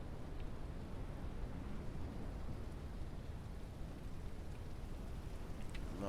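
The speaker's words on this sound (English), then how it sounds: "One thing about this game too, always raining." Steady rain hisses in Ranch Simulator, a constant faint wash of falling water with soft distant rumbles and no other sounds over it.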